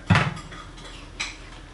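Mutton chops curry stirred in a pot, a sharp metallic clank of spoon against pot followed by a softer second scrape about a second later, close and brief over quiet background.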